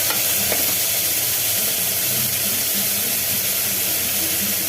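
Ground tomato paste with green chillies sizzles in a pan for thakkali kurma, a loud steady frying hiss with faint stirring, close and without talk.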